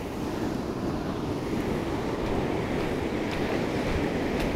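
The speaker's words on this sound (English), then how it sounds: "I'm just waiting for the waves to come." Ocean surf washes around an iceberg on a shoreline, a steady close roar of breaking and receding water with wind buffeting the microphone throughout, no voices.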